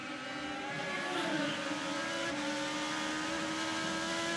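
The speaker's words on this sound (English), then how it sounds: "You can listen to the throttle." A Honda-powered IndyCar engine roars steadily at full throttle, loud and close, its pitch holding then rising slightly as it pushes down a straightaway at the St. Petersburg street circuit.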